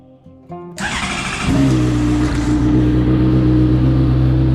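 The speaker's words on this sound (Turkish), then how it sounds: "Motorumuz çalışıyor arkadaşlar." A Honda CBR 600 RR sport motorcycle, a crashed bike under repair, cranks after a brief fuel-pump whine, fires up and settles into a loud, steady idle close by.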